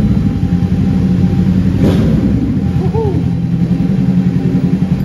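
Kawasaki Z650 motorcycle with an SC Power aftermarket exhaust: steady, close idle with a low rumbling tone, a brief throttle blip midway, and faint voices.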